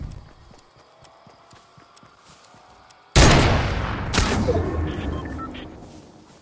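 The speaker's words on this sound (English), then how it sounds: "I hear him shooting" Video game gunfire opens with faint, rapid distant clicks and taps, then a loud burst erupts partway through and decays into a sustained roar of shots and rumble.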